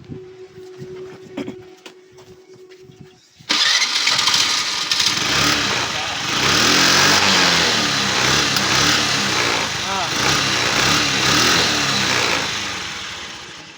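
A Hero Pleasure scooter, in for a gearbox bearing and oil change, is started after a few quiet clicks, then its small engine runs loud and close, idling with some uneven revving.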